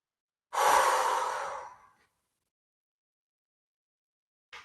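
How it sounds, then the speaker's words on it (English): One long, audible purging breath, exhaled through the mouth as a breathy sigh that fades out, followed by silence and the faint start of another breath, close and alone. "let's do a few purging breaths here. We're going to inhale through the nose and exhale out the mouth"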